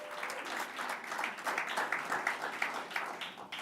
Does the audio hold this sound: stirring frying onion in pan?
no